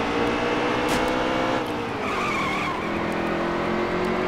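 NASCAR Heat 3 race cars at Bristol at night, loud sustained engine roar with tires squealing and skidding through a turn, close and continuous without speech.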